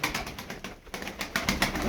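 Pigeons coo in a loft, soft repeated throaty calls at close range over a light background, with several overlapping rhythmic pulses.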